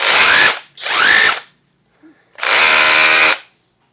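Cordless rotary hammer, a Bosch GBH 185-LI or GTM RHC18/26BL, drilling in three loud, close bursts of high whirring and hammering with brief silent pauses between them.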